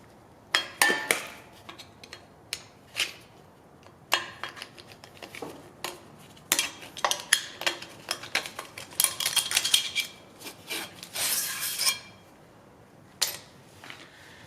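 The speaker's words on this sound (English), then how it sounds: "At this point, we now need to get the snap ring removed." Metal tools clink and scrape while a snap ring is worked out of a Toyota Tundra rear wheel bearing, giving irregular close bursts of sharp metallic taps and rattles separated by short pauses.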